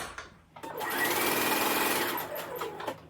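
A sewing machine stitches a seam on a hoodie pocket, a fast close mechanical whir that speeds up, runs steadily, then slows and stops with a few clicks at the ends.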